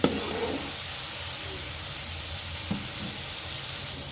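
Whole spices, bay leaves, black cardamom, cinnamon and black pepper, hiss into hot oil for matar pulao. The steady, close sizzle holds evenly throughout, broken only by a couple of faint knocks.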